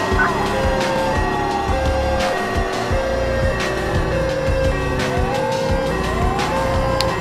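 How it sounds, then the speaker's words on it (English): Wailing siren of a 1972 Oldsmobile Vista Cruiser police car in GTA IV with LCPDFR, sweeping up and down continuously over a loud car engine and road noise, with other police sirens in the chase. "I got my emergency lights, siren second going, so the other cops got normal sirens"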